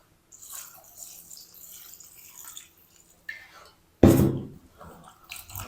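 Fresh water pours and splashes into a bowl of bitter gourds being washed by hand in a kitchen: soft trickling and sloshing, then a louder burst of splashing water near the end.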